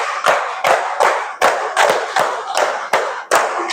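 A group of students claps out a five-beat Tepuk pattern twice during an Islamic ethics (Akidah Akhlak) lesson, loud close claps in two bursts of quick even beats with a short gap between them.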